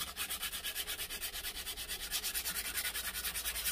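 Sandpaper wet with WD-40 scrubs rust from a Stanley No. 4 1/2 hand plane in quick, even back-and-forth strokes, close and steady with no talking.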